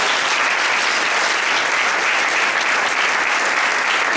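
A large audience at a Socialist party award ceremony in Leganés bursts into dense, sustained applause, a steady wash of clapping with no voices rising above it.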